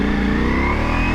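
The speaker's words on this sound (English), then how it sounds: "Exhaust sounds really nice. It's that full Acra system." A Ducati Multistrada V4S fitted with a full Akrapovic exhaust, in sport mode on high power, holds a steady, loud engine drone with a slowly rising pitch, as if revving or pulling under throttle.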